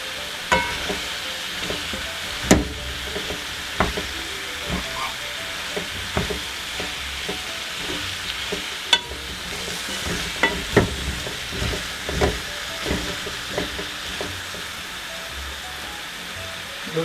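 Irish potatoes frying and sizzling in a pot for Jamaican chicken curry, a steady hiss running throughout with scattered clinks and stirring knocks, close and alone without talk.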